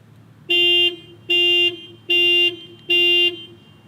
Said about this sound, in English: So it basically flashes the lights and beeps the horn.